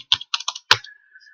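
A computer keyboard being typed on while entering a dimension in Revit: a quick run of about five crisp key clicks close up, followed by a faint tone.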